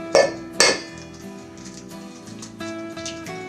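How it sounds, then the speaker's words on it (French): Two eggs are cracked on a bowl's rim in a home kitchen while making a chestnut-cream galette des rois, giving two sharp, close knocks in quick succession, followed by a low, steady background hum with faint clinks. "on prend les cocos et on casse nos 2 œufs"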